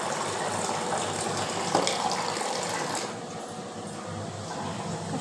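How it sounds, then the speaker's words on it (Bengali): Water pours steadily into a cooking pot, a continuous broadband splashing rush that runs the full length at moderate, even loudness with no voices. "এবার জল দিয়ে দেবো সামান্য"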